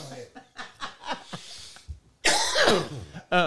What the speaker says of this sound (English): I know you guys are coughing a lot